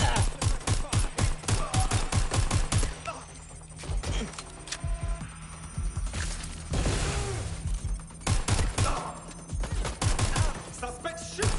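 Gunfire in the video game Watch Dogs Legion: rapid bursts of automatic shots ring out loud and close in several volleys, with pauses between them and game effects mixed in.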